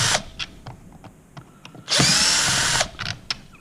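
A power drill backs screws out of a zip top box, with short whirring bursts, clicks and handling noises in between, then a longer, louder spin of the drill near the end.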